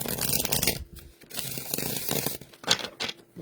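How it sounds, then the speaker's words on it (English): Tarot cards riffle and slap together in quick papery bursts, close by, with brief pauses between shuffles. "let's see, one more shuffle"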